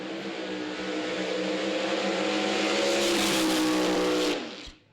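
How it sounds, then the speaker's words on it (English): Hot Rod Herbie's 1984 Chevy Corvette funny car with a big block Chevy engine at a drag race, a sustained loud roaring engine run that swells and then cuts off sharply, heard from a distance with no talk. "84 Chevy Corvette with big block bow tie power"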